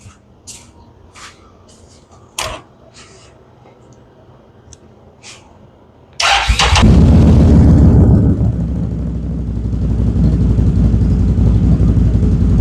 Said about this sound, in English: What do you say we do a cold start?